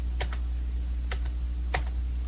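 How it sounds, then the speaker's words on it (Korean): Computer keyboard keys pressed during digital circuit design work, three separate quick double-clicks spaced across the moment, each short and crisp over a steady low hum, with no voices. "키보드의 위쪽 화살표 키를 누르면 이전 실행했던 것들이 이제 순서대로 나와요"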